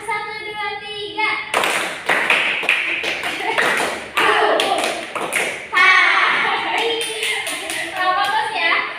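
Young children in a small-group classroom clap their hands in counted sets, a series of sharp, close slaps grouped in ones, twos and threes between an adult's spoken counting.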